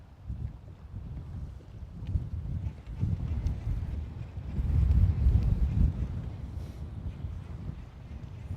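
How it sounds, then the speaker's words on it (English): Wind blowing over a lake, a low rumbling gust noise buffeting the microphone throughout, swelling in the middle and then easing, with no voices. "Is it a little breezy? Yeah, it is."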